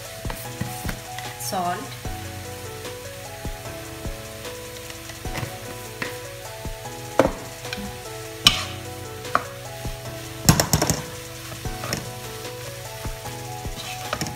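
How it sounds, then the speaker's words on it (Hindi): Pav bhaji being stirred with butter in a non-stick kadhai: a steady sizzle under repeated scraping and clanking strokes of a spoon against the pan, close and distinct, with a brief spoken word. "अब इसको अच्छे से मिक्स करेंगे।"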